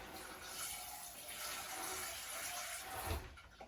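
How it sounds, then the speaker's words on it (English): Water runs steadily from a kitchen sink tap into a pan holding leftover tomato sauce, a continuous close hiss and splash lasting a few seconds with no voices, ending in a slight gurgle. "I'm gonna get a little bit of water in here to rinse out our extra tomato sauce and put it in there."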